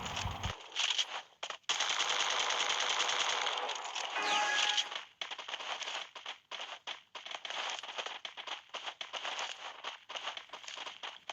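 Rapid automatic gunfire rattles in a shooting video game, dense sustained bursts at the start, then choppier volleys with short gaps continuing for about eleven seconds, fairly loud and close, no talking.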